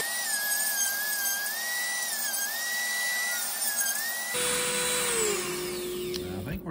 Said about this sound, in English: I'm taking my Dremel tool with a sanding head on it, and I'm just gonna sand the inside of this.